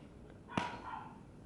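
A single short, faint bark or yip from a dog indoors, a brief sharp burst over a quiet room with low background noise.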